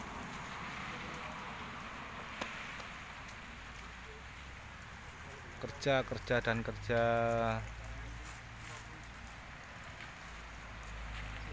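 Light drizzling rain falls outdoors in the Binjai area of Malaysia as a steady, even hiss throughout. Someone speaks briefly over it partway through.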